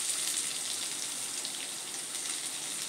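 Chopped onion sizzles in hot oil with popped mustard seeds, a close, even, hissing crackle that holds steady throughout with no talk.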